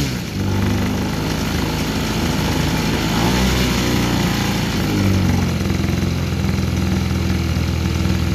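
EME120 gas model-aircraft engine with JMB Brecka canisters and headers running steadily below full throttle, a loud close continuous buzzing drone with a slight wavering in pitch, no talk.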